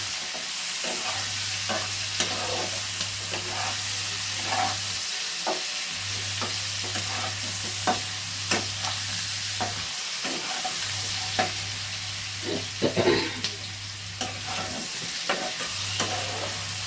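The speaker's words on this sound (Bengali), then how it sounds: "পেঁয়াজগুলো আলুর সাথে একটু নাড়াচাড়া করে নিচ্ছি" Onions and potatoes fry together in a wok, a spoon stirring and scraping in frequent strokes over a constant loud sizzle, with a low humming tone that comes and goes and no speech.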